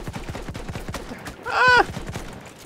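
Rapid automatic gunfire from the World War I shooter game Battlefield 1, a steady stream of close, evenly spaced shots throughout, with a brief tonal, whinny-like cry rising over the firing partway through.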